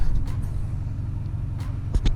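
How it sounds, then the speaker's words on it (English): A GMC Duramax truck creeps forward slowly in drive, a deep low rumble heard from inside, with a few faint knocks and clicks near the end. "Put it in drive and move forward a little bit"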